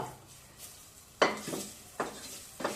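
Pepper paste hitting a hot pan, a faint background sizzle broken by three sharp clinks and scrapes of a spoon against the pan.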